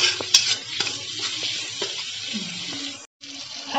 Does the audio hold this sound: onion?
yes